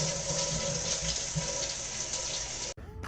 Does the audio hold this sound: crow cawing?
no